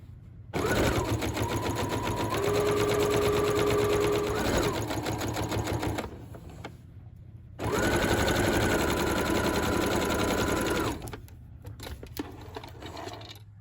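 A sewing machine stitches pockets onto a Simplicity 8797 coat in two long steady runs of rapid whirring, separated by a short pause and followed by quieter handling noise.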